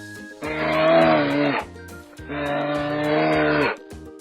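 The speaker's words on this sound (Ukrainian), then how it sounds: "Коли гарчить він, всі лякаються. Хижак цей тигром називається." A tiger roars twice in a children's zoo-themed song: two long, loud, sustained roars, each about a second and a bit, separated by a short gap.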